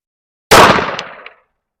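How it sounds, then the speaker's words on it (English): A single sharp report from a Kimber Micro 380 pistol firing Blazer ammunition at a range, loud and close with a short decaying tail. "Okay, so next up I have the Kimber Micro 380. We're just going to do 4 shots."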